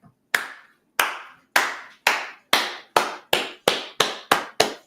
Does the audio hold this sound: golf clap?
yes